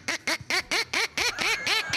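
A small child imitates a duck, giving about eight quick, evenly spaced nasal quacks in a steady rhythm, close and fairly loud with nothing else behind them.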